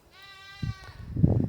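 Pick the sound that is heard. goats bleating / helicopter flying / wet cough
goats bleating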